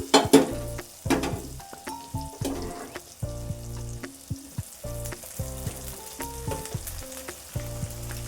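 Freshly cooked rice is stirred and fried in oil in a pan for tomato rice with soya chunks, with a soft sizzle under repeated scraping and clattering strokes of a spoon against the pan.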